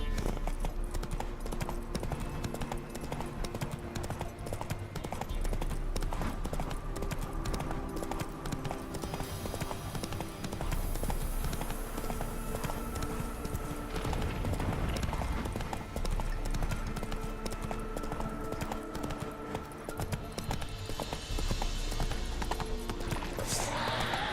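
Hooves of the horse Roach clip-clop steadily in The Witcher 3, under a continuous dense layer of game music and ambience with occasional voices.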